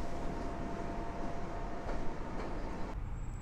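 Loud, continuous rumble and roar of a Pesa Impuls 45WE electric multiple unit train passing close by at Warszawa Zachodnia, with steady wheel and rail noise throughout.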